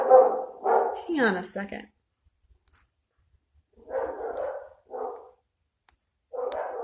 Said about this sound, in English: We'll let them bark for a while.